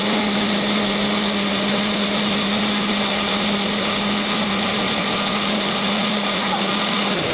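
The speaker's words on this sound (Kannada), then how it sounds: "ಅದನ್ನ ಕಟ್ ಮಾಡಾಕೊಂಡು ಇದನ್ನ ಗ್ರೈಂಡ್ ಮಾಡ್ಕೊಳ್ಳೋಣ" A mixer grinder runs steadily with a small jar of chili powder and ripe tomato pieces, a loud continuous motor whine and churning that holds evenly for several seconds with no talk.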